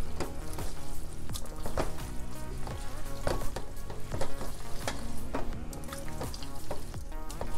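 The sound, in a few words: mixing boiled eggs into spaghetti sauce in pan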